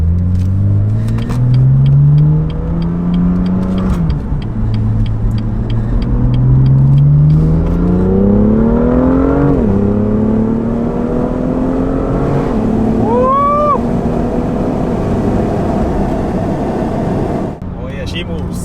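BMW M2 with a DCT transmission tune pulling hard, engine revs rising repeatedly then dropping on each shift, with a quick downshift blip near the end; loud, close, in-car, with people talking over it.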